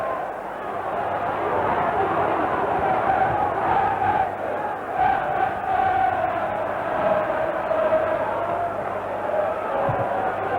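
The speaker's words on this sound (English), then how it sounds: "So a good cheer coming in from the Everton fans," Everton football fans cheering and chanting in an away stadium during a match against Chelsea, a broad rolling crowd roar that swells and ebbs, with a commentator talking over it.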